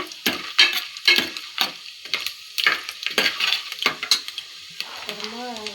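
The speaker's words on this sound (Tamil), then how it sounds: "ஸ்பைசஸ் போட்டு கொஞ்சம் வறுத்ததும்" Whole spices frying in hot oil for home-style ghee rice, close sizzling broken by rhythmic stirring scrapes and clinks of a spoon against the pot, with a brief tonal whine near the end.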